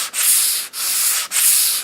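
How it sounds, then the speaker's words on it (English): Sandpaper lightly sanding a wooden bathroom shelf, three long, even back-and-forth strokes with a steady hiss, close and loud, with brief gaps between strokes. "Again, just doing a light sanding here because the card scraper really did most of the work."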